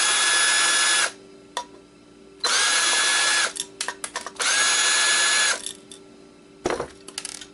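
A power screwdriver backs screws out of an Xbox hard drive in three sharp, high whining bursts, with quieter clicks and tool handling between them, close and alone.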